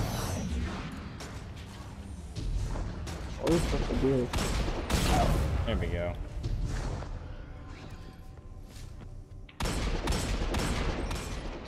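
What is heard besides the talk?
explosion and gunfire in video game Destiny 2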